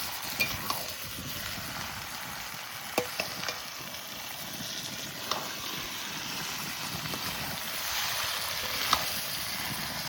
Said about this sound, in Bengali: আস্তে আস্তে জাল দিয়ে সুন্দর করে মাংসটা কষিয়ে নেব।